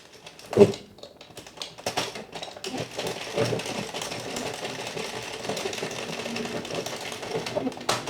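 A Sentro 48 knitting machine knitting rows of a summer top: a continuous rapid clattering and ticking of the plastic mechanism, close up, with a sharp click near the start and no clear talk.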